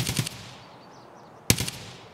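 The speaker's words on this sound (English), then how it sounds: "Whose AUG was that? Sounds like it's at Dome." Two short bursts of distant AUG rifle fire in a video game, about a second and a half apart, each a quick rattle fading into a quiet, hissy background.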